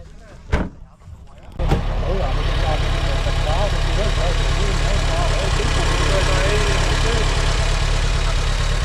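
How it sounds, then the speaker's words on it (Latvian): A roaring ZAZ car engine at a ZAZ club meet gathering. A couple of sharp knocks come first, then the engine catches and settles into a loud, close, steady throbbing idle that runs on without a break. "Tas bija rūcošs zazdzinējs."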